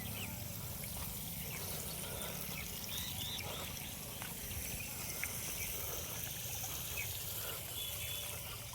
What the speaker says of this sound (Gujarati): જો ફુવારા જેવી સિસ્ટમ થઈ જઈ. જો ટોટા લીકી છે